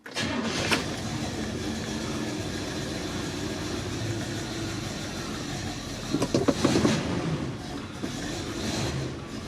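A Radio Flyer car engine with freshly changed spark plugs runs steadily after starting, a loud continuous rumble with a brief surge of revving near the end, alone without talk.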